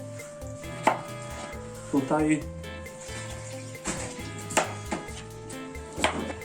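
A knife chops potatoes into half-slices against a cutting board in scattered clusters of sharp knocks, close up, with a single spoken word and faint kitchen background noise.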